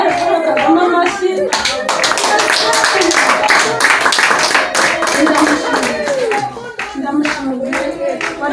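A crowd of residents and officials at a University of Rwanda campus gathering claps for Paul Kagame, a dense, loud burst of rhythmic hand clapping with voices mixed in, fading slightly toward the end.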